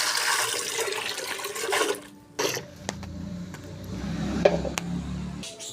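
Water pours and splashes into a fish tank during cleaning, a broad rushing gush that fades out about two seconds in, followed by quieter trickling and sloshing with a few small knocks, heard close up.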